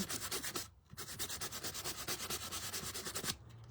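Rolled sandpaper rubs rhythmically against a small craft piece, close and fairly quiet, in quick repeated back-and-forth strokes with brief pauses.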